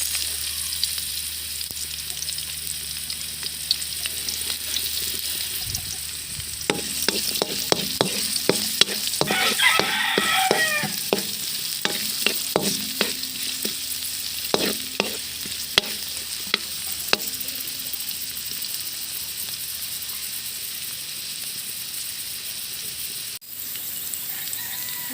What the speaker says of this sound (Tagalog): ngayon ay sisimulan na nating maggisa bawang at sibuyas